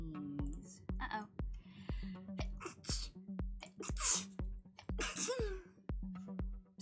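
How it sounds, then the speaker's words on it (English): A person sneezes once, a sharp burst of breath, amid a steady rhythmic ticking from a game playing in the background, with brief speech-like sounds nearby. "I gotta sneeze"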